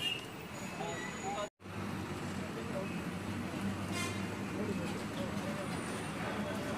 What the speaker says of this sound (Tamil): சரியான டிராஃபிக்குங்க இந்த இடத்துல.